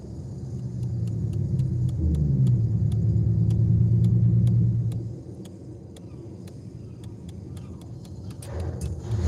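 Toyota Camry fitted with an added turbo, driven in Forza Horizon 5 on a night cruise: a steady low engine rumble builds and holds, then eases off to a quieter drone, with faint regular ticking throughout.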